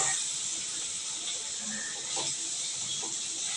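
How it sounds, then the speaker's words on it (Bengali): Paneer cubes frying in oil in a kadai, a steady broadband sizzling hiss that runs unbroken and fairly loud throughout, with a few faint background sounds. "ফ্রাই হওয়া ভাজা পনিরগুলোকে কড়াই থেকে আস্তে আস্তে তুলে নেব।"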